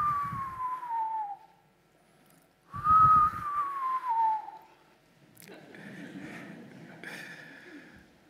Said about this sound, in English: This frog is dear to me for many reasons, one of which is its unique whistling calls,